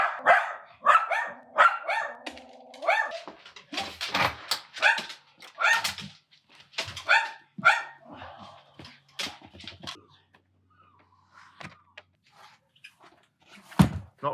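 Dogs bark indoors in quick, loud bursts that are excited and repeated, with clusters tapering into quieter pauses before a final sharp bark.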